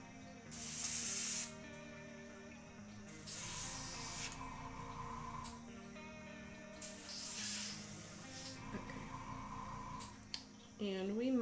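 An Iwata-type airbrush hissing in short bursts while being cleaned, several spray blasts of varying length with quiet gaps and small clicks between them.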